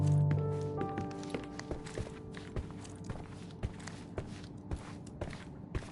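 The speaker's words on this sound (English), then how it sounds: "I heard footsteps upstairs a second ago." Footsteps on the floor upstairs in the Sherlock Holmes Chapter One video game, a steady run of soft, evenly spaced thuds heard from a distance through the house, quiet and with no talking.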